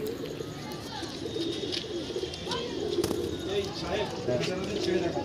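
Pigeons in a loft coo softly in low, throaty rolls beneath someone talking steadily nearby, with light rustling and bird movement in the background.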